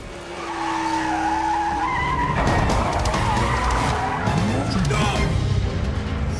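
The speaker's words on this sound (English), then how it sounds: "Dom rams it. Brian spins out." A race car spins out after being rammed during a street race: loud, continuous tire skidding and squeal with engine roar, building into a sweeping screech as the car slides, close and intense throughout.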